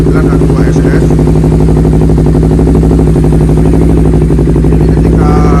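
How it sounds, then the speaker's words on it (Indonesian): A Honda CBR 250RR fitted with an R9 H2 SS exhaust idles close and loud, a steady, deep, rapid burbling pulse holding an even pitch throughout. "Nah ini untuk suara langsam dari R9 H2 SS."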